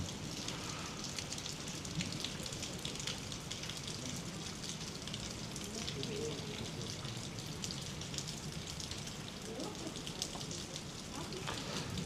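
Steady rain falls throughout, a dense even patter with occasional louder drops close by, lasting unbroken with no clear voices.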